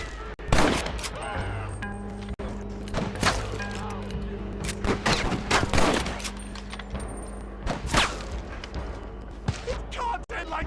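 Gunfire in Red Dead Redemption, scattered loud shots and fusillades mixed with thuds, under game music and occasional character voices.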